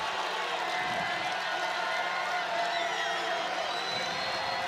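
Home basketball crowd at a Furman game against VMI cheering and buzzing as the deficit shrinks, a dense steady roar of voices with scattered whoops, fairly loud and continuous throughout.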